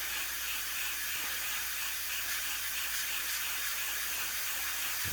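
Spray paint hissing steadily onto a DeAgostini Millennium Falcon model part, a continuous close airy spray lasting several seconds without pause.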